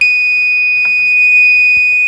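A steady, piercing electronic buzzer tone from an Arduino sounds continuously and loudly, with a few faint clicks and knocks in the background.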